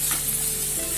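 Finely chopped onion fries in a pan, producing a brief, steady, close sizzle with a constant hiss.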